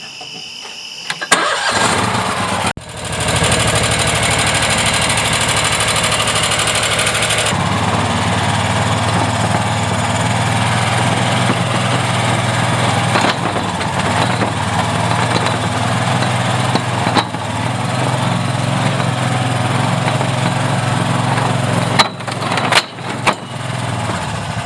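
UTV engine starting and then running steadily at close range as the vehicle sets off on a test drive, a continuous loud mechanical drone with a shift in pitch partway through.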